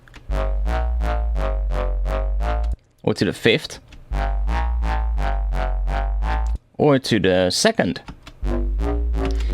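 A buzzy FM synth bass with formant waveforms holds long droning notes whose vowel-like tone shifts between phrases, with someone speaking briefly in the gaps.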